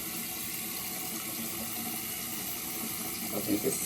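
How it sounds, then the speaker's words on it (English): Water runs steadily from a bathroom tap for washing skin before using a Moroccan hammam mitt, a continuous broadband hiss with slight splashing near the end. "I'm turning this water on."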